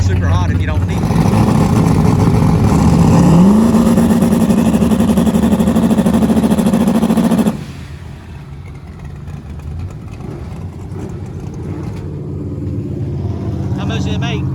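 An Outlaw 28 drag race car runs down the track at Roxboro, its engine note rising into a loud, sustained roar for several seconds before cutting off abruptly, leaving distant lower rumbling and faint crowd noise.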